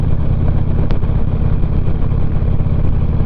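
A motorcycle engine drones loud and steady while cruising on a sunny Saturday morning ride, with a constant low rumble and rushing wind and no break over the few seconds.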